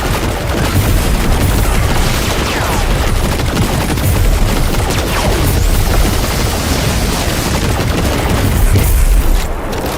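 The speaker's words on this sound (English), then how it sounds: "This LMG goes crazy." Rapid, sustained light machine gun fire from the video game Destiny 2 Lightfall, dense unbroken bursts with booming impacts filling the whole stretch, loud and close with no talk over it.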